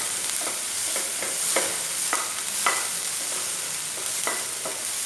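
Capsicum frying in a pan for a bread pizza topping, a steady close sizzle broken by repeated scraping stir strokes, with no voices.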